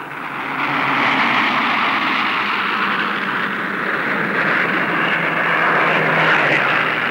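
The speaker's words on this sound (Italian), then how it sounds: "getta nella battaglia tutti gli aerei disponibili, 1000 caccia e bombardieri" World War II fighter and bomber aircraft engines roar in a steady, loud, continuous drone over the 1945 battle for Germany, with no speech over the engine noise.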